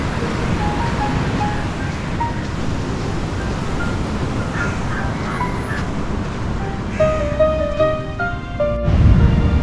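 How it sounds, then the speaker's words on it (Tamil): Rough, aggressive sea waves crash onto the beach at Arugam Bay, a steady loud wash of surf with wind noise, with faint tonal sounds and a louder surge toward the end. "இங்குள்ள கடல் அலைகள் ஆக்ரோஷமாக பொங்கி வரும்"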